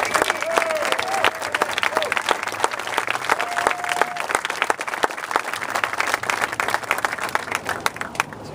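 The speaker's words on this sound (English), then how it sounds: "Let's give him a great round of applause." An audience applauds steadily to welcome a Congressman at a county event, a dense wash of clapping that continues throughout with a few voices and cheers mixed in.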